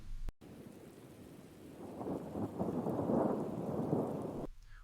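Steady rain with rolling thunder from a cinematic rainy-day soundscape, a low rumble swelling under dense rainfall and staying loud throughout, with no voices.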